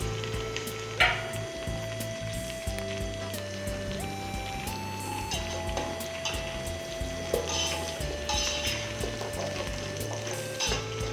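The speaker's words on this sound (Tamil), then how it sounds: "நம்ம முருங்காயை போட்டு நல்லா வந்து பச்சை வாசனை போகிற அளவுக்கு நல்லா வதக்கி எடுத்துக்கலாம்" Drumstick pieces sautéing in a hot pan for biryani, a steady close sizzle and frying crackle with occasional stirring scrapes and clinks running throughout, with no voices.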